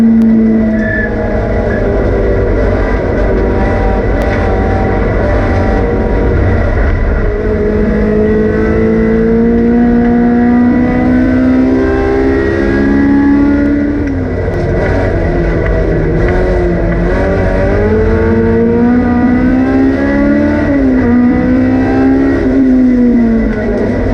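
Under-2-litre race cars at an IPRA Victoria meeting on Phillip Island scream past at full throttle, engines rising and falling through gear changes, loud and continuous with overlapping whines throughout.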